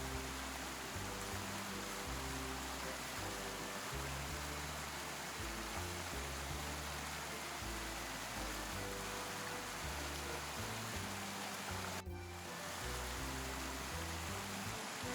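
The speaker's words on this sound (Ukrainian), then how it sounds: "водоспад, який падає просто зі скелі до океану" Waterfall plunging from a cliff into the ocean, a steady loud roar of rushing water with low rumbling surf underneath, unbroken except for a brief dip.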